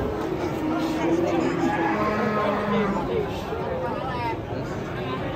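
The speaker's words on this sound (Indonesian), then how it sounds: "Masih terpantau sapi ngamuk." Agitated cattle mooing loudly and repeatedly over a noisy outdoor background, with people chattering nearby.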